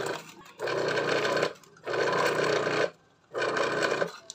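A repaired ice crusher runs during a test after a capacitor fix. It makes three bursts of buzzing mechanical grinding, each roughly a second long, separated by short pauses, close and moderately loud.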